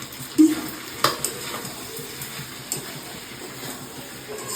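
An egg frying in a pan alongside pasta gives a steady, soft sizzle, with a couple of light utensil taps near the start.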